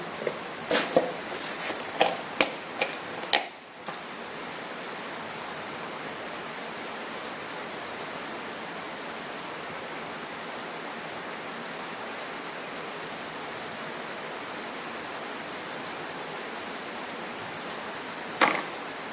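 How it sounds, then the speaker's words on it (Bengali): Heavy rain pouring down steadily for a long stretch, a dense continuous hiss close by, preceded by a few sharp knocks and clatters at the start and one near the end. "সারাদিন মাঝে একটুখানি স্টপ হলো, এখন আবার জোরে শুরু হয়েছে"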